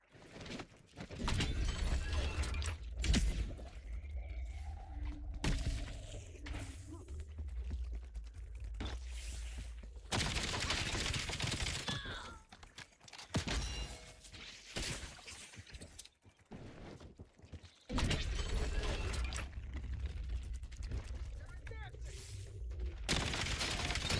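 Sustained gunfire in a Black Ops 7 shooter boss fight, with long stretches of rattling shots broken by brief lulls and heard at moderate loudness.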